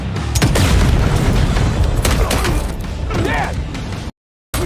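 A ferris wheel blown up in a film scene, a loud continuous booming roar with crackling debris and mechanical clatter lasting about four seconds before cutting to silence, with narration running over it.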